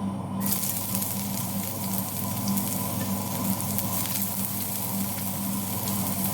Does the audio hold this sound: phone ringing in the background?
no